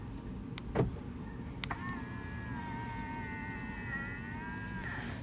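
Power windows on a 2021 Cadillac XT6 sliding open when the key fob button is held, a faint steady electric motor whine running for several seconds after a couple of soft clicks.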